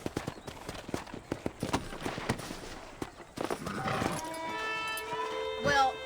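Horse hooves clip-clop in a steady trotting rhythm in a video game set around 2010 with a character named Marston, fairly close, then give way to a whinny and tonal game music as voices talk.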